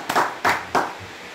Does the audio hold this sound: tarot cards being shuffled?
no